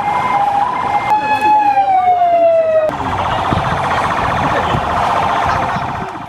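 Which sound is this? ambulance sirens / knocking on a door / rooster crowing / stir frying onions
ambulance sirens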